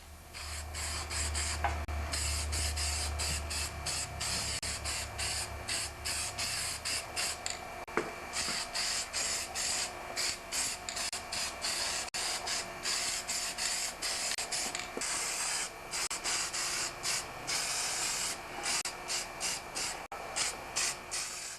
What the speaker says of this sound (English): I'm just going to give it a quick coat of gloss black paint on the impeller